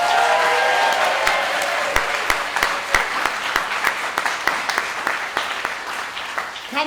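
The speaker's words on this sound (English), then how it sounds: "How about a big round of applause for the cast of Godspell from Lakewood Playhouse?" An audience at the Sound on Stage Awards applauds the Lakewood Playhouse cast of Godspell, starting as a dense wash of clapping and thinning into scattered, distinct individual claps toward the end.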